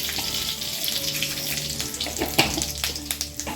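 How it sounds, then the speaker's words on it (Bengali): A torn bay leaf and panch phoron sizzle in hot mustard oil for a Bengali niramish sukto, a loud, steady crackling fry close up with sharp pops toward the end, no voices. "দিয়ে আমি ফোড়নটাকে ভালো করে ভেজে নেব"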